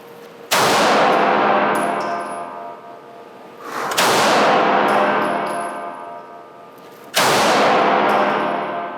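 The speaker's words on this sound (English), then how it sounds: "get the gun extended, prep the trigger, send one, and be prepped for a second" Three loud handgun shots during a trigger drill on a range, each a sharp crack with a long ringing decay, spaced a few seconds apart with no talk.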